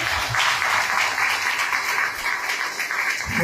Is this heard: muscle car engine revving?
no